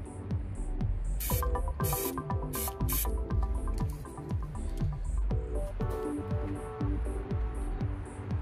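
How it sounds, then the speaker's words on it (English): A spray can gives a light coat of black stencil paint, with several brief hissing bursts over a busy background of steady rhythmic sound, close and fairly loud. "I'm going to do a very light spray of black for the mid-tone"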